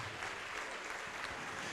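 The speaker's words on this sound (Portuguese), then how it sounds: "vamos aplaudir mais ao nome de Jesus." A church congregation claps together in a steady, dense wash of applause that stays evenly loud throughout, with no voices standing out.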